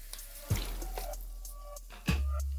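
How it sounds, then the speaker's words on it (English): Water splashes and runs into a cooking pot in two bursts, a steady pouring rush with sharp onsets, close by and fairly loud, no voices. "So let's add in water"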